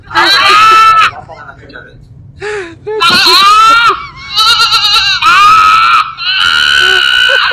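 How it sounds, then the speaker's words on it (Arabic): Loud goat-like bleating from a large sheep, several strained cries in a row with short gaps, close and alone with no talk. "خروف كبير"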